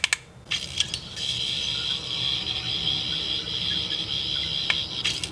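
A Doctor Who 15th Doctor sonic screwdriver toy plays a sustained electronic buzzing whir, opening with brief clicks and ending in sharp clicks, close and fairly quiet.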